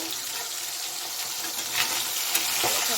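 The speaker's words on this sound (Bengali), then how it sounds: "আমি রান্না করছি এখানে মাছ ফ্রাই করছি" Fish frying in a pan on a gas stove in a home kitchen, a steady dense sizzle with a couple of brief louder spatters, fairly close, no voices.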